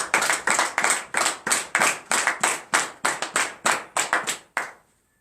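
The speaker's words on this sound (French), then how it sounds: "Donnez de vives acclamations à notre Seigneur." Rhythmic clapping at a morning church prayer service, about seventeen crisp, loud claps in a steady, slightly accelerating beat close by, ending abruptly with a brief quiet tail and no cheering voices.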